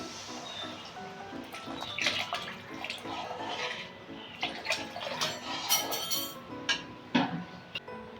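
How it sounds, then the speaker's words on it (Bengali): Water is poured into a pan of softened tomatoes and oil for an egg curry gravy, with splashing, trickling and dripping in uneven bursts, plus a few light clinks, quiet and close. "আমি এখন গ্রেভি করার জন্য পরিমাণ মতো জল দিয়ে দিচ্ছি"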